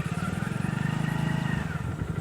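A motorcycle engine runs steadily nearby with a rhythmic, pulsing throb as the bike is parked at a crowded spot for viewing elephants in a forest.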